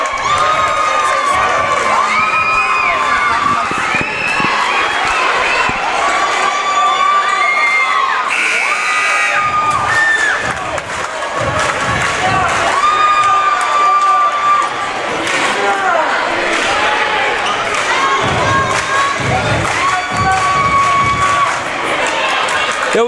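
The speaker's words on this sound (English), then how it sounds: "opposing crowds going back and forth at each other" Opposing crowds at a varsity boys basketball playoff game between Yuba City and Roseville cheer, shout and whoop back and forth in a loud, continuous gym roar, with shrill youthful voices and sneaker squeaks.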